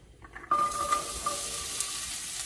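Onion, carrots and celery for a Bolognese sauce hit a pan after a moment of quiet, bursting into a bright sizzle that settles into a steady hiss.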